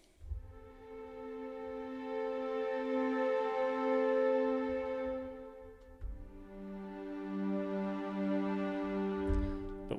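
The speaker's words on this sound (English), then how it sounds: "I'm going to use Spitfire's Originals Intimate Strings and the Long" Sustained bowed chords from the Spitfire Originals Intimate Strings Long Flotando patch, soft and airy, swelling in and fading across two long held phrases with a change of chord midway, alone with no voices.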